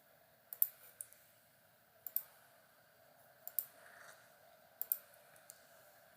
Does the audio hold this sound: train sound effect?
no